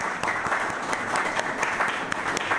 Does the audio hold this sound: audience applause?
yes